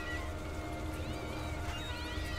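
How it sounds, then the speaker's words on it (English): Screaming cats in the video game Voodoo Vince Remastered yowl and caterwaul in wavering, overlapping cries above a steady low rumble of game music, continuous and fairly loud. "I need to ride the screaming cats."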